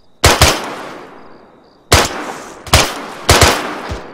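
Loud bursts of automatic gunfire from the combat game Arma III during an assault, four sharp volleys with echoing tails over about four seconds.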